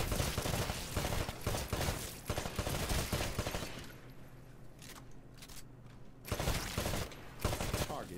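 Rapid gunfire at a shooting range in the video game Titanfall: dense, loud bursts of shots fill the opening seconds, drop away briefly, then return with more firing near the end.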